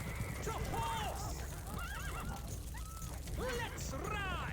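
Several horse whinnies and neighs from a mounted unit in the Stronghold HD strategy game ring out in repeated bursts over a dense, steady bed of battle noise and hoof clatter, with a voice shouting commands throughout.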